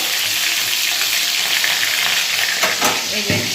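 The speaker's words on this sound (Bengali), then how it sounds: "মাছের মুড়ো ভাজা বসিয়ে দিয়েছি ইলিশ মাছের মুড়ো" A hilsa fish head fries in a pan with dense, close sizzling and bursts of spattering oil, plus a few brief stirring scrapes toward the end.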